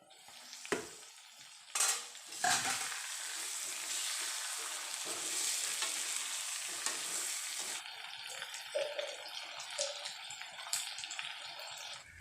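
Meat and lai greens cook in a pan with a steady sizzle, opening with a few sharp knocks and scrapes of stirring, then a lighter, uneven bubbling hiss toward the end; no one speaks.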